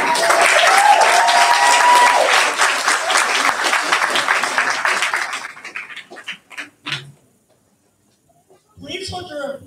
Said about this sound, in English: Please hold your applause until all names have been called.